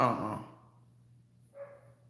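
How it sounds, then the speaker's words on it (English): A dog barks once, fairly close and loud, followed by a fainter second yelp, with a low steady hum underneath. "Y'all hear that bark?"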